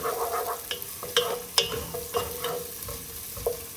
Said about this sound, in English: I'm going to have to stir this so my garlic doesn't burn